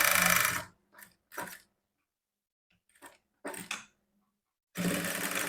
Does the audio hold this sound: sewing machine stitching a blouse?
yes